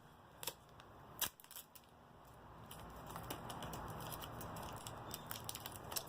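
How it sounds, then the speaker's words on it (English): Packaging around a Bliss Rose Gold Rescue Gentle Foaming Cleanser bottle is unwrapped from a Target beauty box, a few sharp clicks followed by steady, faint crinkling rustle close to the microphone, with no talking. "we go ahead and unwrap that"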